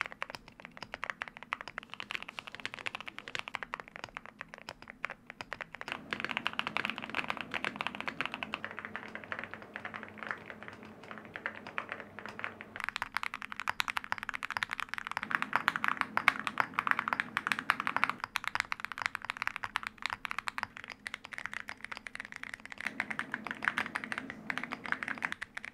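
Continuous fast typing on several mechanical keyboards fitted with ceramic keycaps, a dense clacking patter close up whose tone shifts between sections as the board changes, with no voices.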